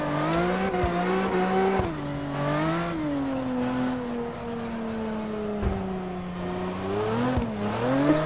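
A CarX Drift Racing car engine drones steadily, its pitch rising and falling through shifts and slides, with occasional tire squeal as it drifts.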